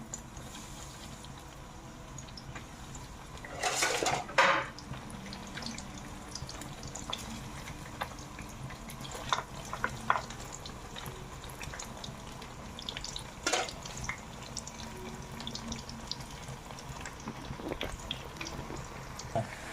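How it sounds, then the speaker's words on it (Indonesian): Tempeh frying in hot oil, a steady close sizzle with a few sharper crackling bursts rising above it and no talking. "Selanjutnya kita goreng dulu ya tempenya. Kalau minyaknya sudah panas kita masukkan."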